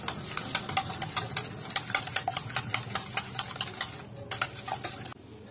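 Egg mixture with salt and sugar being beaten in a bowl, a fast steady run of light clicking taps that goes on for several seconds and pauses briefly near the end.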